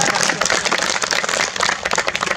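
An audience applauds at a peace and unification cultural festival marking the 4th anniversary of the Panmunjom Declaration: loud, dense, steady clapping from many hands that fills the whole moment.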